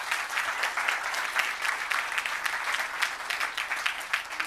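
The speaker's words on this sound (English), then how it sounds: "can we get a round of applause for Megan and Paul" An audience applauds steadily at a web performance conference, a dense, continuous wash of clapping from a crowd that holds at a fairly even level throughout.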